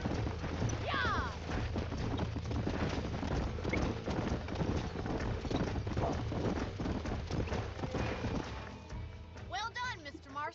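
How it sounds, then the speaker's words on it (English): Horse hooves clop in a steady rhythm under Red Dead Redemption game ambience, with a short burst of speech-like voices near the end. "These are fine horses."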